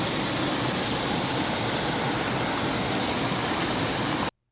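Floodwater rushes through a culvert during a spring storm flood in Douglas County, Oregon, a loud, steady broadband roar that runs unbroken for about four seconds and then cuts off abruptly.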